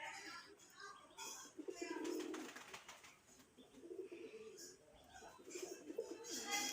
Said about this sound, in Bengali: একটা দেশি কালারিং গোল্লা কবুতর ডাকের রাজা